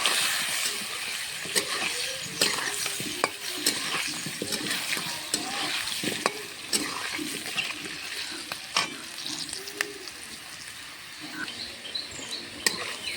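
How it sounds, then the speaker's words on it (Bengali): Potatoes seasoned with salt and turmeric fry in a pan of hot oil, a steady close sizzle broken by frequent sharp crackles and pops for the whole stretch, with no voices. "আলুগুলো ভাজা হয়ে গেছে"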